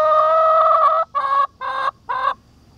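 A chicken in a backyard coop gives one long harsh squawk and then three shorter clucking squawks in quick succession, loud and close with no one speaking.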